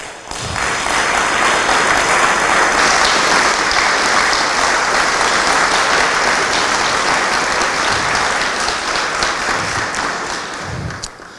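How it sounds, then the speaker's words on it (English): Audience applause for award recipients at a foundation awards ceremony, a loud, dense, sustained round of clapping that swells quickly and carries on steadily for about ten seconds before tapering slightly at the end. "I would just like you guys to give a round of applause for the recipients here today"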